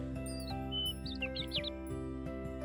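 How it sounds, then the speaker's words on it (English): Small bird chirps and tweets, high and quick, over a steady low musical bed with a soft repeating beat, set among blossoms. "Beautiful blue and pink birds zipped between the blossoms,"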